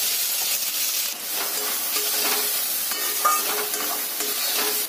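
Soybeans fry in hot mustard oil with dried red chilli and black cumin, giving a bright, hissing sizzle broken by light stirring scrapes and one brief louder crackle, with no voices.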